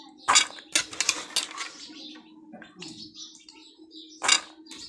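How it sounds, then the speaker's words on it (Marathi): Sprouted chickpeas being washed in a metal pot: scattered clinks and scraping knocks of the pot and utensil, with soft water sloshing in between, near and intermittent, and faint birdsong in the background. "हरभरे धुवून घेते ना चांगल्या प्रकारे"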